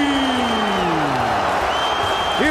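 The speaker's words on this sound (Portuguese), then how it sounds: "Explode a torcida do São Paulo." São Paulo supporters roar in a packed Morumbi stadium after a goal in a 2010 Libertadores semi-final, a loud, continuous crowd din with whistles and cheers.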